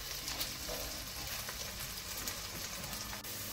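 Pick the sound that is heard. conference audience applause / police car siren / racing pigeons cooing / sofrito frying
sofrito frying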